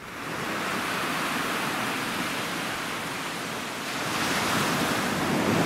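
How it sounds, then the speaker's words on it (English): Waves wash steadily onto a rocky, secluded beach, a broad continuous roar of surf that swells a little louder toward the end, with some wind noise on the microphone and no voices. "Okay, I've come down to this beach."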